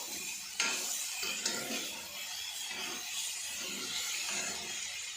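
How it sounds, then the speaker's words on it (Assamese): Ginger garlic paste frying in a pan for a boiled chicken curry, giving a steady close sizzle with a few sharp scrapes of stirring and no voices. "আদা নহৰু গোন্ধটো যোৱালৈকে অকণমান ফ্ৰাই কৰোঁ"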